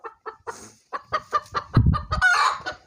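A broody hen settling onto eggs clucks in a quick series of short, close calls that rise into a louder, excited run near the end, with no other sounds.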